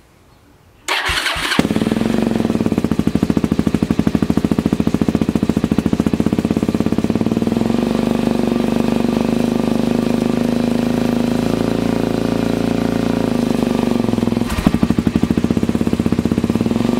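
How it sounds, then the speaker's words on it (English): A Suzuki DRZ400 motorcycle with a lithium battery starts and runs loud and close, its engine note rising and falling as the throttle is opened and closed over a sustained idle. "Hear the difference with the throttle open and close."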